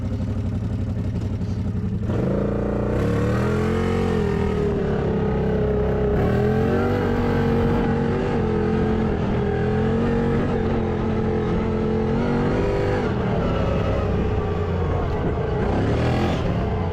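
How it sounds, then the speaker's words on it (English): A CFMOTO Z-FORCE 800 UTV engine with an exhaust leak idles roughly, then revs up with a raspy, popping exhaust note that rises and falls, loud and close throughout. "this thing is very loud. I don't know if you heard it from the last clip when I had it running"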